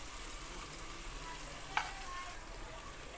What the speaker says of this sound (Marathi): हे पूर्ण मिक्स करून टोमॅटो शिजेपर्यंत परतवायचं